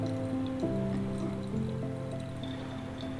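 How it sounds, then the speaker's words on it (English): Water is poured slowly over coffee grounds in a paper filter for pour-over coffee, a soft, steady liquid trickle with a faint sustained tone, quiet and close with no talking. "You'll notice I'm pouring, I'm not touching the sides of the paper, just inside"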